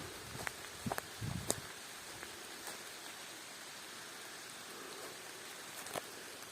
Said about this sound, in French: Allez, c'est reparti pour la pluie.